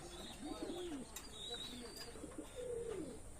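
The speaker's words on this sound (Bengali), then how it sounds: "এখন আর এক পেয়ার কবুতর দেখাচ্ছি ওমান ব্লাড লাইনের" Pigeons of an Oman bloodline cooing close by, several soft rolling coos repeating over a steady low background hum, with faint higher chirps in between.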